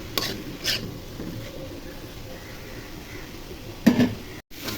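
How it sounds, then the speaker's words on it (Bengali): A low, steady sizzle of pointed gourd and potato fry with a couple of sharp utensil scrapes against a pan as it is stirred; quiet overall. "ভাজিটা নেড়ে ছেড়ে দেই"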